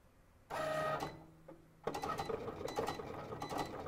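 Cricut cutting machine cutting a design for personalised party glasses, a brief motor whir followed by quick rattling, chattering bursts of the carriage moving back and forth, close and moderately loud.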